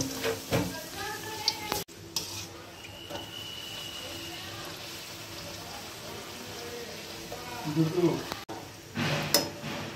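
Khasta namkeen puri, made from maida dough, deep-fries in hot oil with a steady, dense hiss and crackle throughout, broken by a couple of brief gaps and some clatter near the end.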